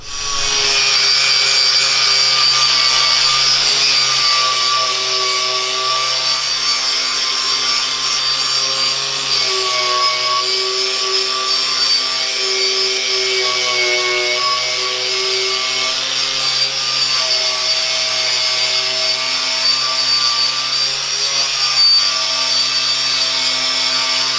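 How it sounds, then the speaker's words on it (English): Steady, continuous abrasive whirring of a power sander stripping paint from a go-kart's metal down to bare metal, a sustained droning with faint tonal ringing, no talking. "So that was a ton of sanding, but we got it all down to bare metal."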